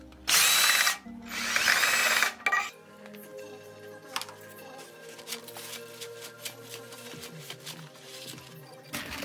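A power drill whines loudly in two short bursts, boring a 14 mm hole in a vertical mill light socket part, then metallic clinks and scraping follow as the bit and part are handled.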